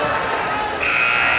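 A loud basketball game buzzer sounds at the end of play in an NAIA Division II tournament game, a sustained tone rising out of steady crowd noise in the gym.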